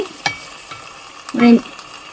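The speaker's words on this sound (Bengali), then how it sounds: "এই মাংসটা কষানো হবে" Spicy beef bhuna being stirred and fried in a pot after a little water is added, with a few scraping stirs and a brief louder sizzling burst, no talk.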